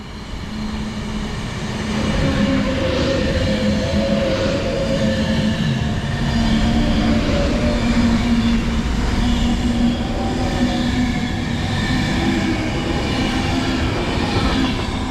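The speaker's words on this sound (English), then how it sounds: "we've got a Pendolino heading to Manchester Piccadilly" A Pendolino train heading to Manchester Piccadilly rushes past in a sustained, loud roar with rhythmic wheel clatter and a low rumble, swelling and holding steady over the whole pass.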